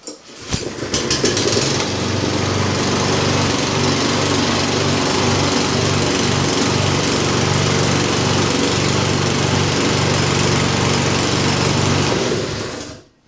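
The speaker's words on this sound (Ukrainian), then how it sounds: "тепер дивіться момент істини, наскільки легко заводиться оця косарка" A GTM LM53-SP-V petrol lawn mower pulls into life after a brief rattle, then runs loudly and steadily at a constant drone before cutting off.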